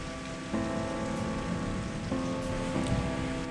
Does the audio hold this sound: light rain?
yes